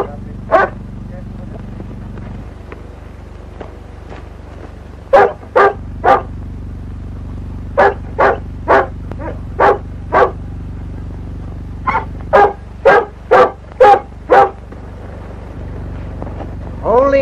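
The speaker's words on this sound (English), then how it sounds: "That's no wolf, it's a dog." Dog barking outdoors at night after rain in a 1938 drama film, with sharp single barks and quick clusters of three to five barks over a low, steady background hum.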